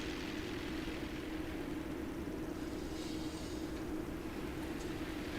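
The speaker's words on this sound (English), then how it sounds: "God damn, these planes are loud." Aircraft in the World of Tanks video game roar overhead as a steady, loud, broad drone throughout, with no speech.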